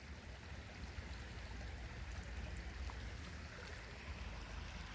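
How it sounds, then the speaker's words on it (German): Rushing water at a waterfall makes a constant, broadband roar that stays steady and moderately loud throughout, with no voices over it. "an diesem Wasserfall hier zu chillen und das dem rauschenden Wasser einfach zuzuhören"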